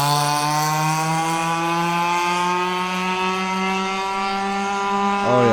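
A 1994 Kawasaki KX80 two-stroke dirt bike engine idles steadily with a buzzy, harmonic-rich drone, close and loud, then blips the throttle sharply at the very end.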